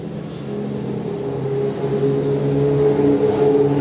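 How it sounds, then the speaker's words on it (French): Replica Ford GT40 race car running on the track at a classic car meeting at Magny-Cours, a steady loud engine drone with tonal harmonics that swells slightly toward the end. "Ici, vous voyez une très belle réplique, je pense, de Ford GT40."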